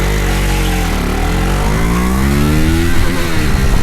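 A KTM RC 390 BS3 motorcycle's single-cylinder engine revs loudly up close, the pitch dipping then climbing through repeated throttle blips, with harder rasping bursts toward the end.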